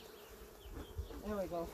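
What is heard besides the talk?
honey bees buzzing around a beehive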